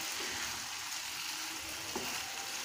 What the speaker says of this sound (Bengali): এখন আমি দিয়ে দিব মাছের মাথাটা,